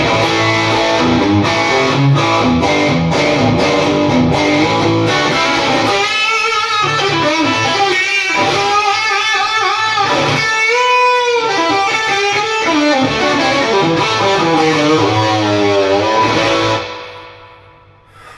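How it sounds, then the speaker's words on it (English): Electric guitar played through a One Control Silver Bee OD low-gain overdrive pedal, a gritty sustained tone with chords and melodic lines, loud and continuous before cutting off near the end. "They sent me this distortion pedal, and I'm just checking it out."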